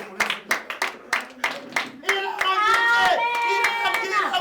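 Hands clap in a slow, steady beat among a church audience, sharp separate claps at first, then singing voices rise over them.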